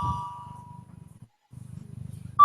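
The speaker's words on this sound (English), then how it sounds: "but I did hear the bell ringing" A bell rings at a live maths show held for Maths Week in Ireland: one loud clear strike slowly fades at the start, and a second strike sounds sharply at the end, over a low rumbling room background.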